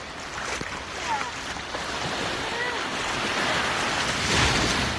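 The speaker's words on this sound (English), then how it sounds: "the wave water will pull you way out to the other side" Steady ocean surf washes and breaks continuously nearby, with wind buffeting the microphone and the rush swelling slightly toward the end.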